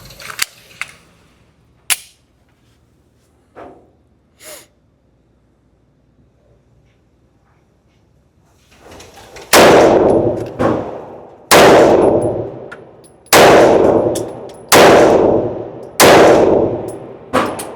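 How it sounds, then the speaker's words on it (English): Shadow Systems CR920XP pistol fired at 7 yards: after quiet handling clicks, six loud close shots come in a slow steady string, each with a ringing tail. "Shoot about 5 in it. See what we can do at 7 yards."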